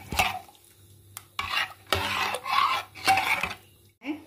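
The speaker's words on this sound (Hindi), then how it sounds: "अब इसे मिला लेंगे हम।" A spoon stirring dal makhani in a metal pot, scraping in several separate bursts with short pauses between, close and moderately loud, no voices.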